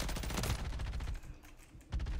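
Rapid bursts of gunfire in an online shooter game, dense and loud at first, easing off briefly, then a fresh burst near the end, with no talking over it.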